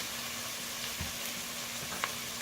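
Onion frying in a pan gives off a steady close sizzle throughout, with a brief clink of stirring about halfway through. No one speaks.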